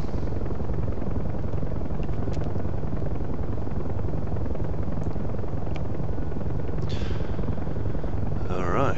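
Inside a UH-1H Huey helicopter in the DCS flight simulator, a steady, loud rotor and turbine roar fills the whole stretch, with brief faint clicks and a short electronic warble near the end.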